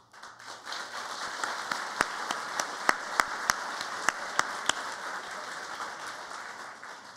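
Steady audience applause fills a community State of the City address by the Kenner mayor, a dense wash of clapping with several sharper individual claps standing out near the middle, sustained and moderately distant throughout.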